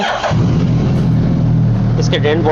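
Suzuki Hayabusa motorcycle engine cranking and firing up in a workshop before an oil change, then settling into a steady, loud, close idle rumble that continues through to the end.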